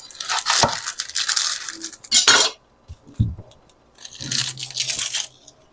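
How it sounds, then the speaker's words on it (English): Knife chopping an onion on a board, a close series of crisp crunchy cuts and knocks in irregular bursts with short pauses between strokes. "I'm basically just cutting up an onion."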